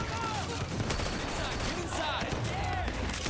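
A submachine gun in Sleeping Dogs fires a rapid, continuous stream of shots, emptying its magazine amid other game sounds, with talk mixed in.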